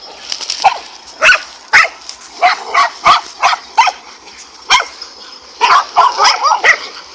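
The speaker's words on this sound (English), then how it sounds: "One dog would distract the snake while another would pull at its tail or midsection." Several dogs barking while fighting a cobra, sharp close barks and yips in irregular bursts, loud and unaccompanied by speech.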